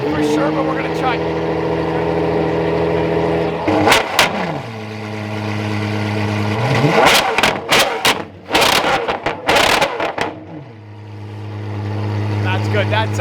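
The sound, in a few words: V12 engine of a megacar revving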